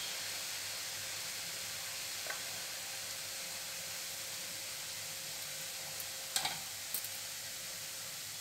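Boondi batter frying in hot oil, a continuous even sizzling hiss with a few small pops and clinks near the end.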